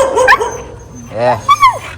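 A dog barks and yelps a few times close by, short sharp calls mixed with people talking.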